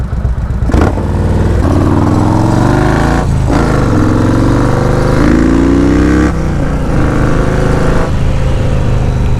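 A motorcycle with a modified exhaust being ridden fast, its engine roaring and revving loudly with gear changes and surging pitch, close and continuous with no talk.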